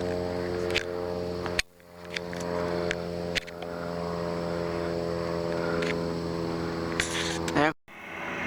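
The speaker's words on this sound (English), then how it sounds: "That was a cool airplane." An airplane passes near an airport, its engine a steady droning hum with layered tones that holds for several seconds before cutting off abruptly near the end.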